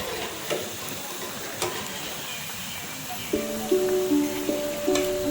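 Pakoras sizzling in hot oil as they are lifted out, with a steady frying hiss and a few soft clicks and scrapes of the utensil. A faint tonal hum enters near the end.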